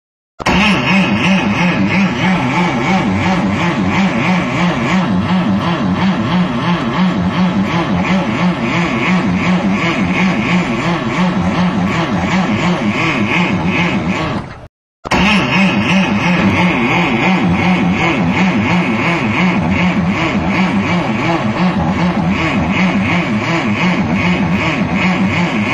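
A rough, loud engine running badly, its drone pulsing and grinding continuously with a brief cutout midway before resuming just as harsh.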